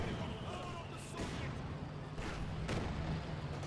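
A bundle grenade going off in Company of Heroes 2, a deep boom amid continuous battlefield rumble and scattered shots, with a voice talking over the top.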